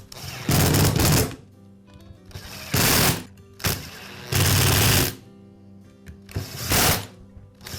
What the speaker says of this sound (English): So now I can re-secure the screws.